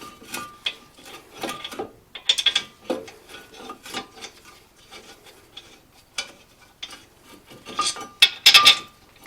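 Ratchet tightening the front brake caliper bracket bolts onto a Mazda 3's knuckle, giving bursts of close, crisp clicking with pauses between turns and louder runs of rapid clicks near the end.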